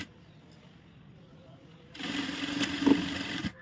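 A sewing machine stitches a back-hook blouse in a short burst of steady whirring near the end, after quiet room noise and a brief murmur of talk.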